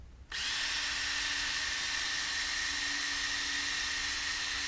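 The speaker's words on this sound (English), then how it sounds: "Come down here into the water and make sure your drill is in the right direction." A power drill whirs steadily at full speed, starting abruptly and running on without pause, loud and close, driving a pump to drain water from a flooded basement.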